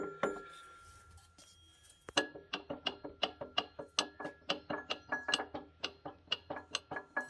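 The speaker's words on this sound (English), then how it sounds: "There is a lot of play. That's just gear to spline play on that shaft." Worn gear rattles on a shaft spline in an Allis Chalmers 15-25 tractor transmission, giving a brisk, regular series of metallic clicks close by after a couple of softer knocks.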